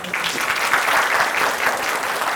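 An audience at a Korean cultural talk event applauds a company CEO, with sustained clapping from many hands, fairly loud and even for a couple of seconds, with no voices over it.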